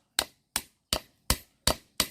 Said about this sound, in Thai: เราจะนำตะปูนะครับ ตอกเข้าไปเลยครับ ตอก ตอก ตอก ตอกเพื่อแกล้งต้นขนุนครับ